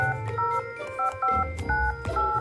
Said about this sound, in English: put his paw to a line in the phone book and dialed a number